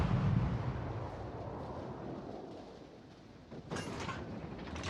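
Naval gunfire from ships in the game World of Warships, a low rumbling boom and roar that fades, then a second sharper blast near the end, with no talking.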